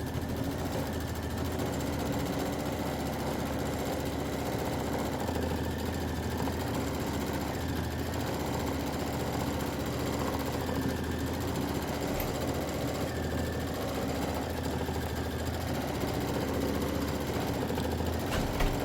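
Embroidery sewing machine stitching out a patchwork flag block, a steady mechanical hum with fast, even needle rattle running continuously at moderate level.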